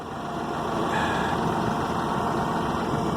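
A Massey Ferguson tractor engine idles close by, a steady low rumble and vibration holding even throughout with no speech.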